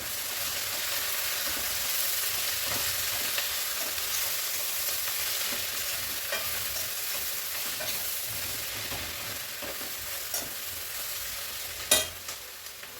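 Cabbage curry with coriander powder being stirred in a pan: a steady bright sizzle with soft scraping strokes at intervals, close and moderately quiet, and a sharper clink near the end.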